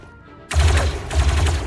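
Rapid bursts of blaster or gunfire from the Star Wars: Zero Company video game kick in suddenly after a quiet start and continue as dense, loud volleys with no talk over them.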